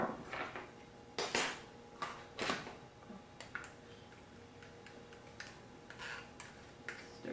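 A spoon stirs honey, Dijon mustard and a little hot sauce in a dish, giving several close clinks and scrapes of utensil against the bowl at an uneven pace in a quiet kitchen.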